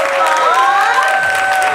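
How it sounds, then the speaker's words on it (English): Audience applause at a Women of Color in Tech event, a steady crowd wash with cheering and tonal voices or music riding over it for the full stretch, loud and close. "let's give her another round of applause"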